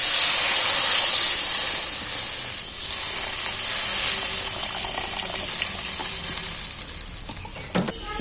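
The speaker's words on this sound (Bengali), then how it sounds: "এবার জল দিয়ে দিচ্ছি।" Water pours steadily into a cooking pot over a wood fire for a fish roe dish, a continuous close gushing hiss that thins out toward the end, with a brief knock near the finish.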